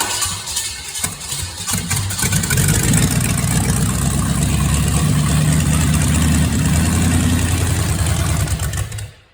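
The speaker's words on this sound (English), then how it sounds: "I still don't know if this engine's all that good, but it runs." A revived Chevy small block 350 V8 catches after some cranking and settles into a loud, steady rumbling idle up close, then cuts off abruptly at the end.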